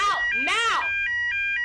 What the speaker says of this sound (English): It was a fake fire alarm.